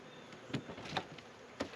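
Honeybees at a hive during an inspection, a faint, low buzzing with a few short louder passes as individual bees fly close, no talk.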